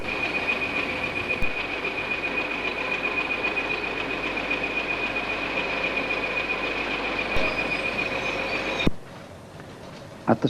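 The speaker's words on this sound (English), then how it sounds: "a full train consisting of 30 empty HAAs headed by two Type 20 locomotives in multiple, we pass over the large Edge Hill junction" A freight train of 30 empty HAA hopper wagons hauled by two Type 20 diesel locomotives in multiple rumbles steadily over the Edge Hill junction in Merseyside, with a constant high whine and a few clanks, ending in sudden quiet.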